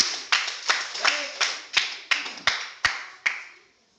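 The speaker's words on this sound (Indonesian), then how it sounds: "Kita kasih aplaus untuk kelompok Vina" A junior high school class gives applause for a student group: steady, rhythmic group clapping in about ten strong pulses, close and loud, fading out at the end.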